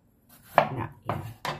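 A knife chops through eggplant on a cutting board in a home kitchen, three crisp separate cuts spaced out, close and clear with no talking.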